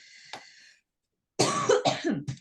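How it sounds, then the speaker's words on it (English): A harsh cough bursts out close to the mic, quickly followed by a couple of shorter coughs and throat noises. "Cough break."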